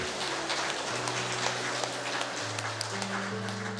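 A church congregation claps together in a dense, even patter of many hands, sustained at moderate level for a few seconds while low instrumental tones hold underneath.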